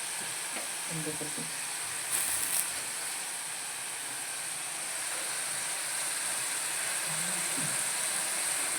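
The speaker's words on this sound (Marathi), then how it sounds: "तेल सुटेपर्यंत आपल्याला थोडेसे परतून घ्यायचे ते पावटा पण आपला भाजून झालेला आहे" Pavta (field beans) fry in oil in a home kitchen pan, giving a steady soft sizzle and hiss throughout, with a few faint clinks of stirring.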